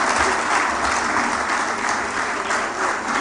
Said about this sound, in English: A round of applause for him one more time, ladies and gentlemen.